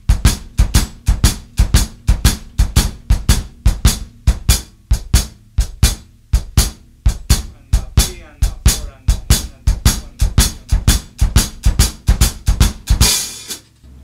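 A steady drum kit groove with a loping shuffle feel, from a song, kick and snare hits repeating evenly under ticking cymbals, ending with a cymbal crash.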